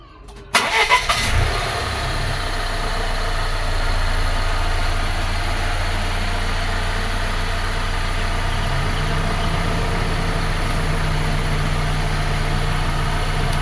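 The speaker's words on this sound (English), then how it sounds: "now we'll start the car" A 2018 Volvo XC60 engine cranks and catches almost at once, then settles into a steady, even idle that runs unbroken to the end.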